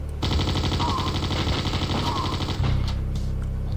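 Sustained automatic fire from the player's weapon in a Wolfenstein shooter, a loud continuous rattle of rapid shots running for several seconds with a brief break and a heavier tail.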